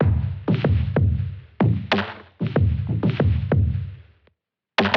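Original drum loop played back before being cut up, punchy low kicks and snappy hits in a steady repeating groove that stops briefly and restarts.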